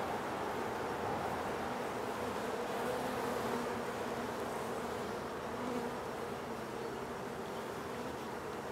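Honeybees buzz in a dense, steady drone at an open hive under inspection as it prepares to swarm, the hum continuous and close throughout with no talk.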